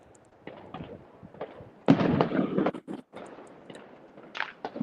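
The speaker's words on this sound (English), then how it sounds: "I can hear the bangs, but I can't see the fireworks." Fireworks bursting over a town in Spain: a cluster of loud, sharp bangs and crackles peaks near the middle, with scattered fainter pops before and after, heard from a distance outdoors.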